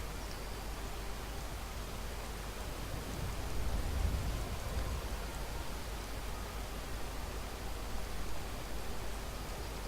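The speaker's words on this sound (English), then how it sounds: "It's still raining." Steady video-game rain hisses as a constant broadband wash, with a brief low rumble swelling in the middle, no voices.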